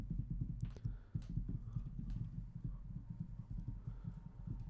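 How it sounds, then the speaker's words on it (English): Fingers tapping on a desk are picked up through a dynamic microphone as a rapid run of soft, low, muffled thumps, steady and fairly faint, with no talking. "I'm just tapping on my desk to see how much of that noise is being picked up."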